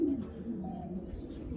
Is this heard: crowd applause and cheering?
no